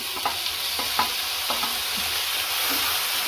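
Chopped tomato sizzles steadily in a hot pan while cooking peas masala. A bright frying hiss runs throughout, broken by a few soft clicks of a spoon stirring.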